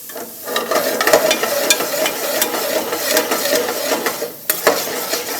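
Chopped onion sizzling in a few tablespoons of bacon fat, with a spoon stirring and scraping the pan in quick bursts over a constant loud frying hiss.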